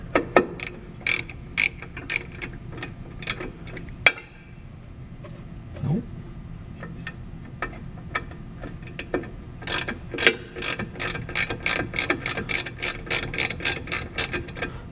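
A ratchet wrench with an 11 millimeter socket loosening a rusty drum brake bolt on a Chevy Astro or Chevy pickup, with rapid bursts of sharp clicking near and loud, pausing between runs.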